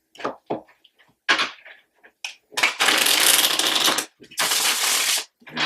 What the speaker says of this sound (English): I've pre-shuffled all of these cards, but I just like to shuffle once more